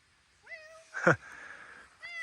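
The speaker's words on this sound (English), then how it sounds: "Got a little cat friend." A cat in a kitchen garden meows twice, close and clear, with a sharp rising call, a brief noisy burst, then a second meow at the end; no talking.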